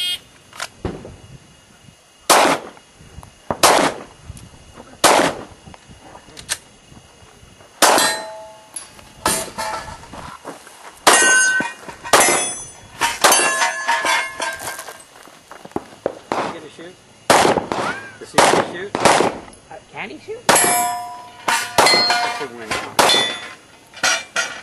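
Gunfire rings off steel targets at a shooting range during a steel-shooting match, with sharp shots and bright metallic clangs in irregular rapid bursts. Voices can be heard in the background.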